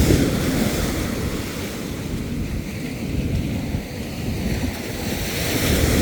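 Surf rolls onto Caspersen Beach in Florida in a continuous low roar, heavy wind buffeting the microphone throughout with no voices.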